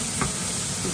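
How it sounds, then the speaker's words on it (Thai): Chinese sausage fried rice stir-fried in a pan sizzles and hisses steadily up close, with a brief scrape of the spatula, no voices. "ผัดให้มันเข้ากัน"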